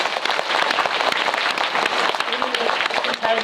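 Audience at a film talk event with director and cast of Parasite breaks into continuous applause, a thick, even crackle of many hands clapping close by, with faint voices mixed in.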